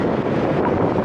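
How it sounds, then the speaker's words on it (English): A gust of wind buffets the microphone along North Terrace near the South Australia War Memorial, a loud, steady low rumble that fills the whole second with no voices over it. "You get a gust of wind along here on North Terrace"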